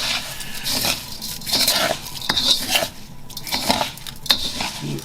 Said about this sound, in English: olive oil in, and just mix and coat all the rice like